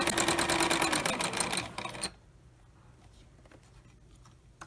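Sewing machine stitching lace on a Snipit roll, a steady fast whirring run close by for about two seconds that stops abruptly, followed by quiet handling noises.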